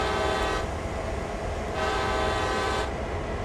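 A locomotive horn in the Train Sim World game, set on New York's Northeast Corridor, blares loud and sustained in two long blasts separated by a brief dip, over steady rail rumble.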